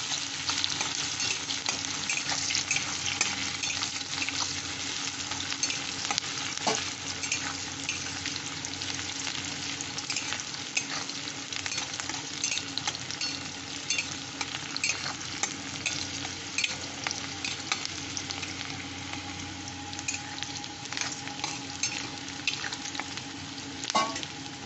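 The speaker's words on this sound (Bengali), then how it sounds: "পেঁয়াজটা দিয়ে দিলাম। পেঁয়াজের বেরেস্তা করবো" Sliced onions fry steadily in hot oil for birista while mutton kosha is prepared, giving a dense, continuous sizzle with occasional stirring scrapes, close and fairly loud throughout.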